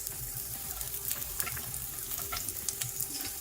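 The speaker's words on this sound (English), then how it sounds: "I am going to add around 3 sliced green chilies" Sliced green chilies frying in hot oil in a pan for tamarind rice, a soft, steady sizzle with faint crackles, quiet and close.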